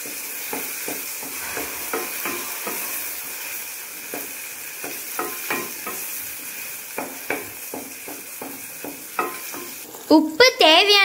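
Garlic chutney paste stirred in a hot pan, with a regular rhythm of wet scraping strokes over a low sizzle, close and clear, ending in a louder burst of spattering hiss; no one speaks.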